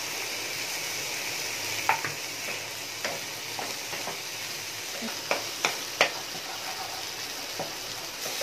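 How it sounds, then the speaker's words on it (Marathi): Gram flour stirred and dry-roasted in a pan for a homemade chicken masala gives a steady soft hiss, broken by about a dozen scattered scrapes and taps of the spoon against the pan. "बेसन पीठ भाजून घेत आहे"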